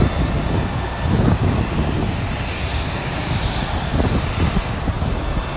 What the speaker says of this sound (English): Look, that plane's taking off.